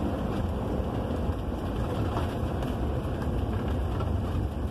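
Exhaust of a 1973 Dodge Titan motorhome while driving, heard before the muffler: a continuous low rumbling roar with road and wind noise, steady and close throughout.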